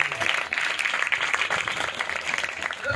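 Congregation applauding during a church service, a dense steady patter of many hands clapping throughout the short stretch.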